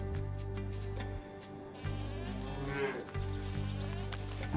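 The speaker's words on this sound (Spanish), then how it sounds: "Las vacas han quedado sin comida también." Cows in the farming game Force of Nature 2 moo repeatedly, several drawn-out calls close by over a steady ambient game background.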